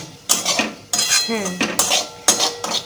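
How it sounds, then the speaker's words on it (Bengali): A metal spoon stirs roasted semolina with ghee in a pan, producing close, repeated scraping and clinking strokes in an uneven rhythm, loud and without talk. "এটা ভাজা সুজি, তাও একটু ঘি দিয়েছি তো একটু নেড়ে নিচ্ছি।"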